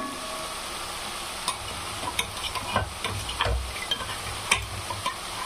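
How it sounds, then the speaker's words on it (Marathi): Finely ground sesame seeds frying and being stirred in a pan, giving a soft continuous sizzle with scattered scraping clicks from the stirring, fairly quiet and close, with no one talking. "पूर्ण असं फ्राय करून घ्यायचं आहे"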